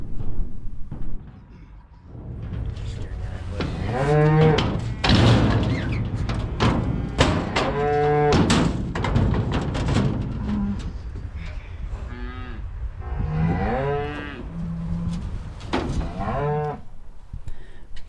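Cattle moving through a tub and down a handling chute: repeated loud, close moos, several in a row, with occasional thuds and rattling in between.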